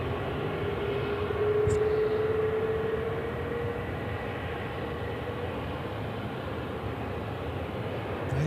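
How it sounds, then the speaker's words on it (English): An airliner taking off from runway 16 right at Sydney Airport, a broad sustained engine roar with a slowly rising whine, heard steady and fairly strong from a distance with no one talking. "runway 16 right, clear for takeoff"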